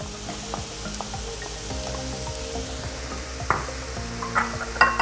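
Onions and green chillies sautéing in a pan, a gentle continuous sizzle with scattered spoon scrapes and clinks against the metal, near and unaccompanied by talk.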